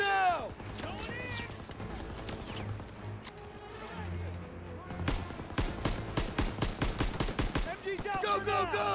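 Gunfire in the Call of Duty: WWII campaign on the Hill 493 mission: scattered shots give way to dense, rapid bursts of automatic fire, with soldiers shouting over the battle.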